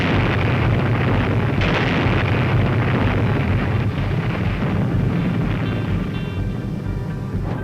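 An underground nuclear test explosion gives a sustained, loud, roaring rumble that stays dense and noisy throughout, with slight surges and crackle and no voices on top.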